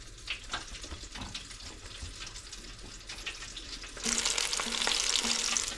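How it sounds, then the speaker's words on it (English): Korean fried chicken pieces frying a few at a time in a deep fryer, a steady bubbling sizzle that grows louder and brighter partway through, close by with no speech. "You only want to do like maybe 5 or 6 pieces at a time in the fryer."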